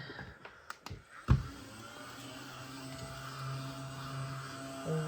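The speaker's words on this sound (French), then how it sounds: "Je vais passer un petit coup d'aspirateur parce que ça fait vraiment très sale." A vacuum cleaner used during pool maintenance: a few knocks and bumps come first, then a steady motor hum with a droning whine settles in and continues to the end.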